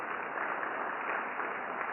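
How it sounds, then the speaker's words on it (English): A crowd at a Rotary Club centennial celebration gives a round of applause for the mayor and president, a steady, fairly soft wash of clapping that fills the two seconds evenly. "A round of applause for our mayor and for our president."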